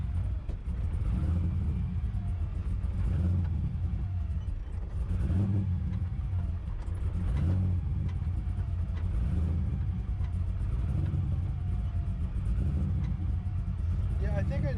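A drift car's engine idles and runs with a muffler fitted, giving a steady low rumble that holds throughout, with people talking over it now and then.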